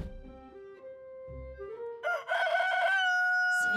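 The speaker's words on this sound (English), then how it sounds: "Since when does Big Apple City have a rooster?" A cartoon rooster crows loudly and close in a long, rising cock-a-doodle-doo, coming in after a few quieter tonal sounds at the start.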